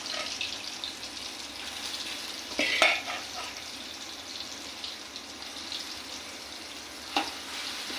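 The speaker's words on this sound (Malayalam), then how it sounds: "സോയാബീൻ പൊരിച്ചെടുക്കാം. അതിന് ഞാനൊരു ചട്ടി അടുപ്പത്ത് വെച്ച് ലേശം എണ്ണ പാർന്നിട്ടുണ്ട്." Soybeans sizzle in a little oil in a pan on the stove, a soft, steady frying hiss with a couple of brief clinks and scrapes, fairly quiet and without talk.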